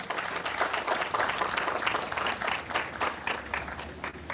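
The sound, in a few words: applause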